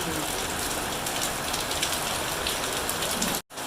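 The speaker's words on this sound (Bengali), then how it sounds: "বৃষ্টি নামলো অনেক জোরে" Heavy morning rain pours down in a loud, dense, steady hiss that ends in a brief cut-off at the end.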